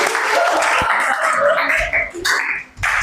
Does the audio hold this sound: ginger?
no